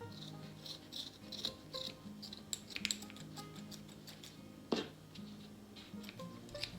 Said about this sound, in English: you can just cut this off